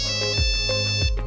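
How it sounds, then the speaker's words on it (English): A mobile phone ringtone plays a bright, tonal electronic melody that repeats in a steady rhythm, fairly loud and alone with no voices. "ringtones,"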